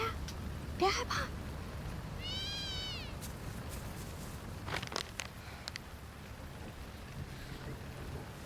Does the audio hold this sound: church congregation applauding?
no